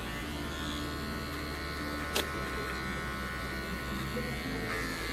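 Electric hair clippers cut wavy hair during a fade haircut at a barber's, giving a close, steady low buzz and hum throughout with one brief click midway.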